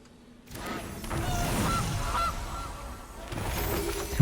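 A goose honks repeatedly in a card game of Magic the Gathering as the Gilded Goose card is played, loud and close over a busy background of game sounds.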